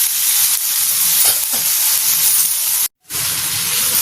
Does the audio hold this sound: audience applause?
no